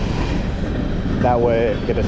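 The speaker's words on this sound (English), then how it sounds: "Sorry about the train." A train rumbles past in the background, a low continuous roar under someone speaking briefly.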